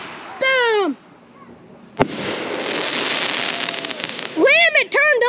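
Backyard July Fourth fireworks go off with a sharp bang followed by a long crackling, hissing shower, and excited voices shout before and after it up close.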